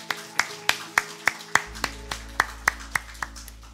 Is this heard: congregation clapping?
yes